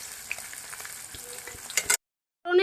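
Pieces of katla fish fry in hot oil, a steady busy sizzle with crackling spits that cuts off abruptly, then a loud fresh burst of sizzling as frying resumes.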